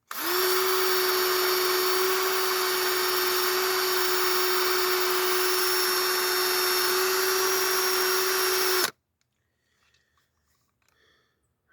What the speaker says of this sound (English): Been using this drill for,